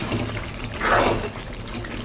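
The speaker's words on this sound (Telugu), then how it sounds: "ఇప్పుడు వాటర్ వేసుకుందాం" Water is poured into a pan of chicken curry cooking in oil, giving a brief splashing gush that swells and fades within about a second against a low background, with no talk.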